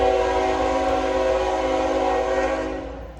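A train horn blares in long sustained chords near the tracks at Folkston, Georgia, with a low rumble of rolling freight cars beneath, holding loud before trailing off slightly at the end.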